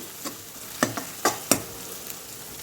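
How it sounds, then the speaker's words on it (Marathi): Curry leaves frying with onions in hot oil, a steady low sizzle broken by four or five sharp spatula scrapes and pops spaced about half a second apart, close and moderately loud with no talking. "कढीपत्ता पण आपण कांद्यासोबत मस्त फ्राय करून घेऊ"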